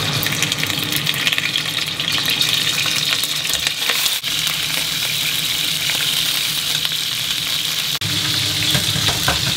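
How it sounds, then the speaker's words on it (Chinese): Fish bones fry in hot oil in a wok with a steady, close, unbroken sizzle and crackle, no voices present. "下入鱼骨后不要翻动它，煎至两面金黄"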